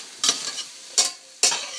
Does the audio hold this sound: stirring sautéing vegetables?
yes